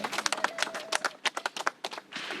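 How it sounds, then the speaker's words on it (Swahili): An audience at a building committee gathering in Chunya gives a short round of applause for the building board members, a brisk burst of scattered hand claps that is fairly close and quiet, with no talk over it. "tuwapigie makofi kidogo wale"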